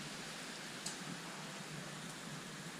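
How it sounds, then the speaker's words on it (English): Steady rain falls outdoors on a dull, overcast day, a dense, even hiss of drops with no pauses and a couple of faint sharper patters. "it's raining. Dull, overcast and wet."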